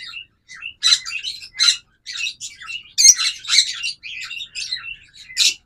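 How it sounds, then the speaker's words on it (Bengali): Top-quality opaline lovebird pairs chirp in a busy run of bright, high tweets and short squawks, loud and close, with calls overlapping and brief pauses between bursts and no talking. "আপনাদের জন্য রয়েছে চমৎকার কিছু টপ কোয়ালিটির লাভবার্ড"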